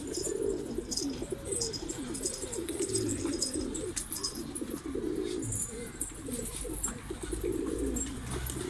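Pigeons coo repeatedly in low, throaty rolling calls, fairly close, with faint chirps and background noise throughout.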